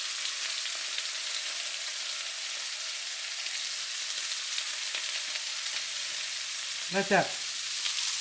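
Chopped ginger, green onion and garlic sizzle steadily in a hot pan with oil, a continuous bright hiss throughout, with a brief clatter or stir near the end.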